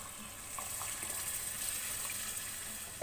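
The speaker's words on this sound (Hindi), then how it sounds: "पानी ऐड करेंगे" Water pours from a tap or jug into a cooking pot with soaked rice and chickpeas for chickpea biryani, making a steady, close gushing splash that lasts the whole stretch.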